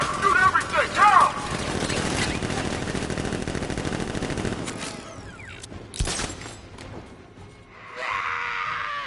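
Gunfire in Batman Arkham Knight, a long, loud run of rapid automatic shots mixed with voices shouting, then a sharp bang before it fades.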